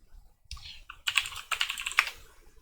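Keystrokes on a computer keyboard, close and fairly quiet, starting with a few scattered taps and then running into quick irregular bursts of typing with no voices.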